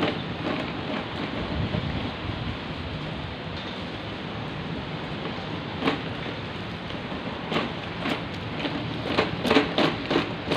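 Rain falls steadily on a rainy morning, a dense outdoor hiss with scattered louder taps and gusty bursts throughout.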